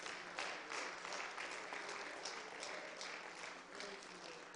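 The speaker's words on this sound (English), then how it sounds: "Let's give the Lord a hand clap." A congregation claps together at the close of a church service, a steady, even round of hand clapping that runs throughout at moderate level.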